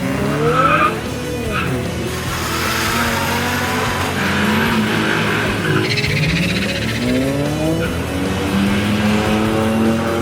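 A 1972 Datsun 240Z with a stock engine revs hard and loud as tires squeal and skid, the pitch rising and falling continuously with no break.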